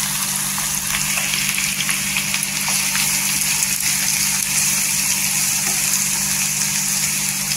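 Plenty of chopped onion sizzles in hot oil in a pan for a dry Bombay duck masala, a steady, even frying hiss with a low hum underneath and no voices.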